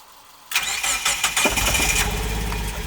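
A 2002–2005 Mazda Miata NB2 with VVT engine, freshly converted from automatic to a five-speed manual, cranks and catches after a half-second of silence, then settles into a steady, close, loud idle.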